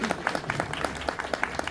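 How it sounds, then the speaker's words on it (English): Audience clapping at an Ethiopian Adwa commemoration event, a short burst of individual hand claps in a loose, quick rhythm, fairly close and distinct. "You can clap anytime."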